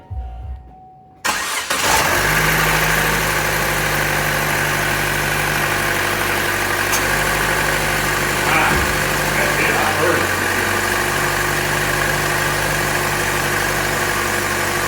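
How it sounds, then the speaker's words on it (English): A 2014 Chevrolet Cruze engine cranks and catches after a second of near silence, then settles into a steady, loud idle with a constant low hum and faint mechanical vibration for the rest of the stretch. "Okay, I'm gonna start the car up and I'll turn the air on."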